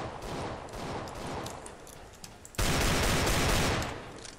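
Rapid automatic gunfire in Counter-Strike: Global Offensive during a casual match, a dense rattling burst that turns sharply louder and fuller partway through and holds steady to the end.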